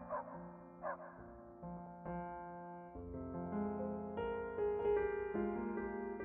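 A dog barks and yips in a Five Nights at Freddy's animation, two short barks at the start, then drawn-out whimpering, whining tones over soft music.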